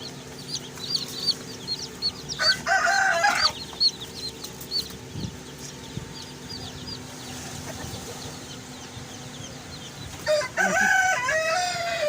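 Day-old Australorp chicks in Pakistan peep constantly in shrill, overlapping chirps, with louder crowing-like bursts from nearby fowl breaking in twice.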